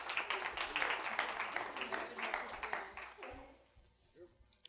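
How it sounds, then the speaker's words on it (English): A modest audience at a talk on the opioid crisis claps for volunteers, a fairly faint, scattered patter that thins out after a few seconds, with a voice and some shuffling near the end. "a round of applause for these folks who are really good sports"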